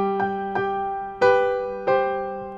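Four piano notes and chords from a song ring out one after another, each struck clearly and left to sustain and decay, with no voices.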